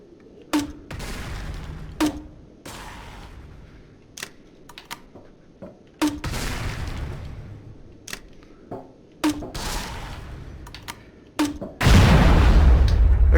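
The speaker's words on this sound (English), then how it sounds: "And finally, a grenade launcher." Grenade launcher firing in the video game Modbox, a series of sharp loud shots with decaying booms roughly every one to two seconds, ending in a sustained loud roar of noise.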